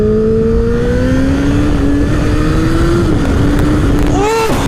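A 1000cc superbike motorcycle accelerates hard, its loud engine note climbing steadily in pitch over several seconds, briefly dipping at a gear change and then rising sharply again, close to the microphone and heard alone.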